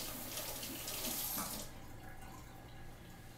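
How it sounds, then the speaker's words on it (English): Running tap water pours over bell peppers in a sink, a loud steady splash for about a second and a half before the flow is shut off, leaving a faint background hush. "But we're going to wash them off."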